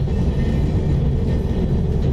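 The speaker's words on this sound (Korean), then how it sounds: "열차는 이런 곡선 구간에서도 속도를 최대한 줄이지 않고 통과를 할 수 있기 때문에 뭔가 체감상 더 빨라 보이는 게 아닌가 싶기도 합니다" A tilting train running through a curve at speed on a Japanese line toward Wakkanai, heard from inside the carriage as a steady, dense low rumble with faint rail hiss and no voices.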